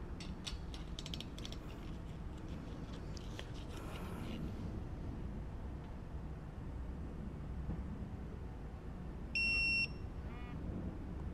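A digital torque wrench tightens fasteners on a BMW E46 M3 S54 engine build, giving one brief, clear electronic beep near the end over a faint, steady background hiss of mechanical ratcheting.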